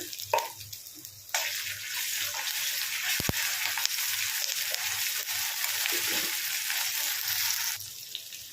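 Ginger garlic paste frying with curry leaves in hot oil gives a steady, loud sizzle that runs for several seconds. It breaks off briefly near the start and again at the end, with no voices over it.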